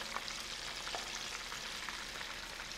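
Catfish fries in oil in a deep fryer with a temperature gauge, giving a faint, steady crackling sizzle with small pops throughout, no voices.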